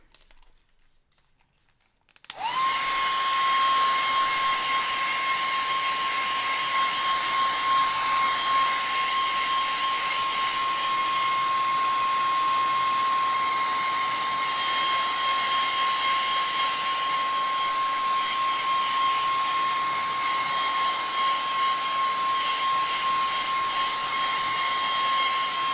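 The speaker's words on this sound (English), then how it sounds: "Let me dry these little red dots." A handheld heat dryer blows steadily on red paint dots on paper, starting abruptly after a moment of near silence and holding a loud, even whine with a sharp tonal hum for the rest of the clip.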